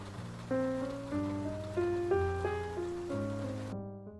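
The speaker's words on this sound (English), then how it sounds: "A night spent under the rain makes even this grubby old cab seem welcoming." Steady rain falls at night in the video game Face Noir, a soft continuous hiss sitting beneath a louder sustained orchestral music score.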